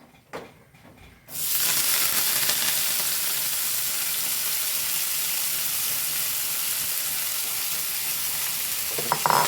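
Urad dal fried until brown and thazhuthama leaves hit the hot pan after a few soft clinks, setting off a sudden loud, steady sizzle and hiss that stays close and constant, with no talking.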